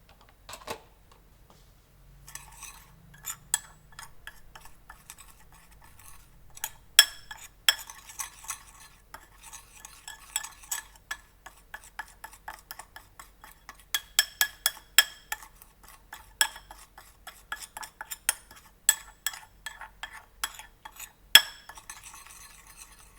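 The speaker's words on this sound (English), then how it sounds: "In a small bowl, mix 1 teaspoon salt, 1 teaspoon Chinese 5-spice powder, and a half teaspoon pepper." A spoon stirs and clinks in a small bowl mixing salt, Chinese five-spice powder and pepper for crispy pork belly, with quick repeated light taps and scrapes, close and fairly quiet.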